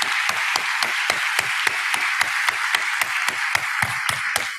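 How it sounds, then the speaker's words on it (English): Audience applause for panelists at an education forum, a steady roar of many hands with sharp, regularly spaced louder claps standing out, continuous and fairly loud throughout. "I just wanted to ask everybody for another round of applause for our wonderful panelists"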